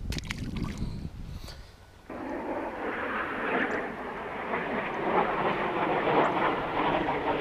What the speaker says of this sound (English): What is going on today with the airplanes?